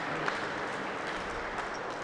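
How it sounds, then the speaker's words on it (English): A crowd applauds steadily at an outdoor ASA archery shoot-down final, a moderately distant wash of clapping with faint voices mixed in. "Crowd's going to give a big cheer when they turn this 14 around."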